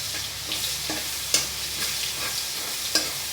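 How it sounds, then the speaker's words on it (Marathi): Momo vegetable filling with ginger-garlic paste is stirred in a hot pan: a continuous close sizzle broken by repeated spoon scrapes and a few sharp knocks against the pan, with no talking. "याला हलवत बसायचं"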